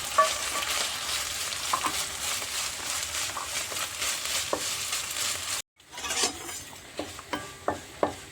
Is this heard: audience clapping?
no